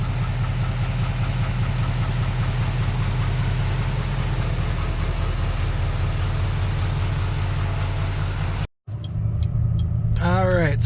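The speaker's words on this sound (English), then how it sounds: "when it's sitting here idle, it doesn't sound too much different" A Duramax L5P diesel pickup fitted with a Banks Ram-Air cold air intake idles with a steady low rumble and diesel clatter, close and loud, before a brief dropout near the end.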